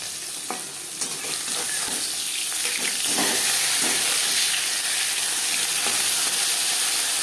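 Bata fish pieces fry loudly in hot oil for a Bengali curry with jackfruit seeds, a dense continuous sizzle that swells and hisses with occasional bursts of spattering.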